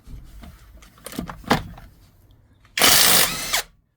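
A ONEVAN 1200Nm impact wrench bought from AliExpress spins off a bolt in one loud, dense burst lasting under a second, preceded by scattered clicks and handling knocks from the tool.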